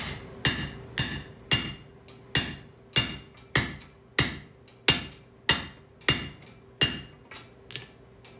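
A hammer strikes mild steel on an anvil while a bottle opener is forged, about thirteen sharp ringing blows in a steady rhythm, loud and close, with no talking.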